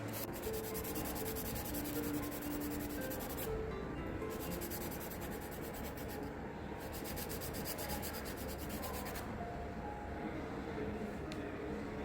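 Acrylic nail extensions being filed by hand give a steady, close scratchy rasp, with continuous back-and-forth rubbing strokes and brief pauses.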